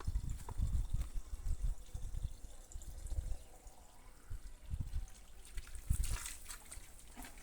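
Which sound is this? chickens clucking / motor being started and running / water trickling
water trickling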